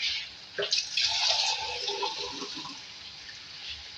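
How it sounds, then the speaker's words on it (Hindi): Water splashing and pouring into a cooking pot of softened chicken for a few seconds, a bright gushing burst that fades to a softer trickle, with no talking. "अब इसमें पानी ऐड करेंगे ताकि हमारा चिकन गल जाए"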